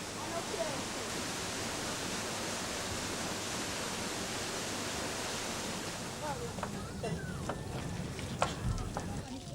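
Steady broadband rush of water at a waterfall near a house, a cold stream with weeds and pebbles, continuous and close, with faint voices and a few brief higher sounds near the end.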